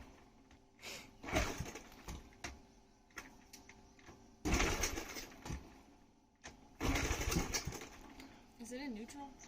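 A free, neglected dirt bike engine cranks and sputters without catching, in several short bursts with gaps between, quiet overall while people talk around it.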